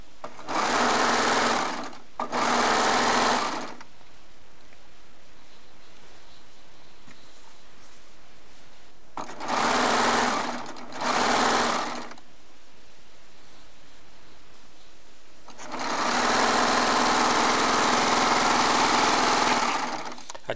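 A serger sewing machine stitching jelly roll quilt strips runs loudly in several separate bursts, each a steady high whir, with a long final run and quiet pauses between seams.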